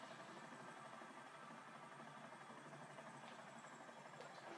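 Steady helicopter rotor and engine drone of a landing helicopter in the video game GTA 5, continuous and fairly even, with no voices over it.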